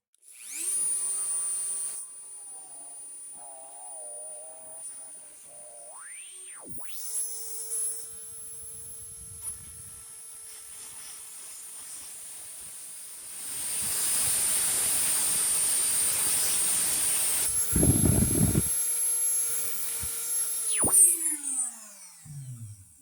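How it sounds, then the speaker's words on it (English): Dremel rotary tool cutting through the engine shaft of a Powerfist 212cc engine, a high steady whine that rises and wavers as it spins up, then a loud, rough, hissing grind of cutting near the end before winding down. "I am going to have to cut this shaft with a Dremel"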